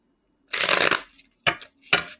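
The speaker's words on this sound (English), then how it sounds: "Just going to shuffle my cards this way one more time." Tarot cards being shuffled by hand, three separate riffling bursts, the first longest, close and fairly quiet with no talk.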